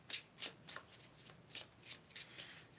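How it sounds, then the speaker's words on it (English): Tarot cards shuffled by hand in repeated quick riffling bursts, close and fairly quiet, with brief pauses between each flurry of card slaps. "So basically, like when I shuffle, I just intuitively tap in and I just keep shuffling until a card jumps out"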